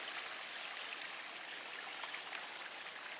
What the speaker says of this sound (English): That's a cool little waterfall.